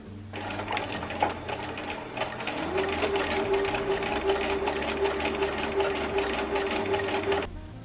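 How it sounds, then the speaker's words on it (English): Sewing machine stitching elastic channels into a band pinned inside a sleeve, running in a steady fast rhythmic whir for several seconds with a brief pause near the start, close and clear. "Okay, so now I have sewn in the 3, and I can start feeding my elastic through it"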